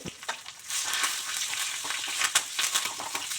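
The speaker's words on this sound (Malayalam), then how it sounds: "ചീനച്ചട്ടി എടുപ്പത്ത് വെച്ച് എണ്ണ കാണി അതിലേക്ക് കടുകും കൂടി ഇട്ട് കൊടുത്തു ഇനിയിപ്പോൾ കറിവേപ്പില ഇട്ടു" Mustard seeds and curry leaves frying in hot oil in a small pan, giving a loud, steady crackling sizzle with sharp pops and spatters throughout, heard alone without any talking.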